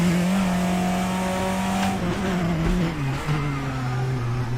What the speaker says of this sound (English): Oh, a bit of a lock-up there.